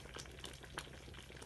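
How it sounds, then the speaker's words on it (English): Sadza, a maize meal porridge, boils in a pot with soft bubbling pops and crackles, close and quiet over a brief stretch with no talking. "Look, it's boiling like it's boiling now."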